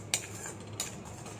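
A spoon stirs an onion and capsicum curry with tomato puree and kasuri methi in a pan, making two faint, sharp metallic clinks spaced apart in a quiet kitchen.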